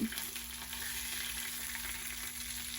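Food frying in a pan over rising heat, a steady low sizzle running without break, fairly quiet and close, with no voices.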